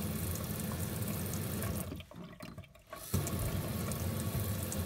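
Water runs steadily from an upgraded RV faucet into a sink, a close rushing stream that drops away briefly mid-clip, then resumes at full flow.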